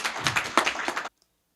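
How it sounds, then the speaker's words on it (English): An audience at a Gambian governance reform closing ceremony gives a brief round of applause for the electoral commission chairman. A quick burst of close clapping cuts off abruptly into silence after about a second. "Please, let's give him a round of applause as he comes."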